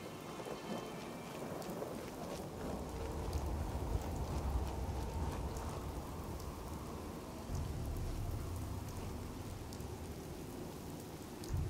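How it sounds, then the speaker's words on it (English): A video game thunderstorm: dense, steady rain hiss with deep rolling thunder rumbles swelling and fading beneath it, continuous and fairly loud, with no voices. "great, and the storm had followed us"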